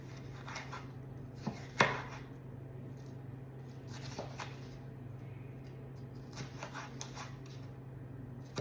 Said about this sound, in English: we're just gonna cut this into strips.